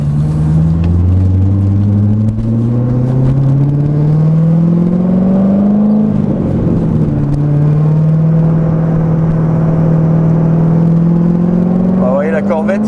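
A Corvette C6 Z06 engine revs upward with a rising growl, shifts, then climbs again. The loud, nearby roar continues throughout.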